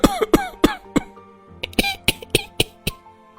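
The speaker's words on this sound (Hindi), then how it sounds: "सभी को साथ में खांसी आने लगी?" Several people cough in a burst of sharp, loud, closely spaced hacks, a first cluster then a brief pause before another run of about seven coughs, heard indoors at a family home.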